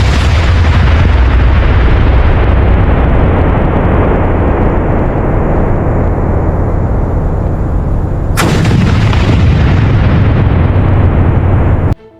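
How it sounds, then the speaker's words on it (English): A missile explosion over Damascus strikes a diplomatic compound: a loud, sustained roaring blast rumbles continuously for about twelve seconds, with a sharp second burst partway through, then cuts off abruptly. "One night, the silent skies of Damascus are suddenly torn apart by a massive explosion."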